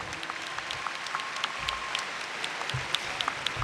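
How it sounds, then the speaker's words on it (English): A graduation audience at Lincoln High School applauds the choir, dense steady clapping from a large crowd filling the space, moderately loud with no speech over it. "Give the choir another round of applause,"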